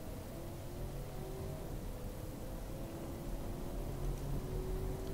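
A car in the racing game Automation accelerating around a track: a steady, continuous engine whir with a low droning tone that holds at an even level without pauses, unaccompanied by talk.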